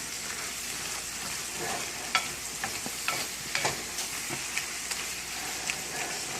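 Chicken with chili flakes and spices being stirred in a skillet, a soft continuous sizzle broken by scattered scraping clicks and taps of a utensil against the pan.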